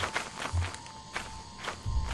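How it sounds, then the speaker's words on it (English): Footsteps in the video game Lethal Company, a few soft, muffled steps spaced unevenly across a quiet, faintly humming game scene with no talk. "I hear footsteps."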